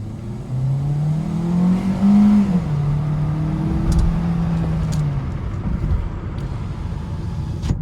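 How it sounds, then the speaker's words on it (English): A 2021 Hyundai Kona SUV accelerates hard in sport mode, heard from inside the cabin as a loud engine drone that rises in pitch, drops at a gear change, then climbs again over road noise. "So I'm gonna go ahead and do an acceleration right here with sport mode and see how it does."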